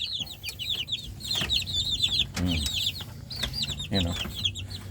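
Chicks in a backyard flock peep rapidly and continuously up close, and a few deeper clucks from adult chickens break in now and then.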